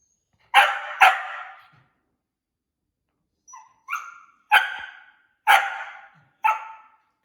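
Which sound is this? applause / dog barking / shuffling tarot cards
dog barking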